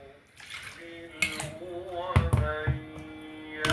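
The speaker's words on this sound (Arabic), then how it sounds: "هحط عليها ميه البصل" Onion water is poured from close by onto a yogurt marinade for grilled meat, making a splashing trickle whose pitch rises as the container fills, with a few light knocks and clinks.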